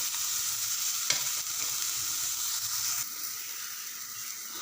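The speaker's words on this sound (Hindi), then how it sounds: "प्याज और शिमला मिर्च को हम 2 से 3 मिनट तक फ्राई करेंगे।" Onion and capsicum frying in a pan while being stirred, giving a steady close sizzle with a brief scrape partway through and the sizzle softening slightly toward the end.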